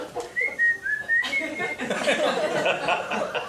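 Someone whistles a short wavering tune, followed by chuckling and laughter from a crowd.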